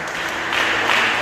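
A church congregation applauding during a worship service: dense, steady clapping that fills the whole moment, close and loud without interruption.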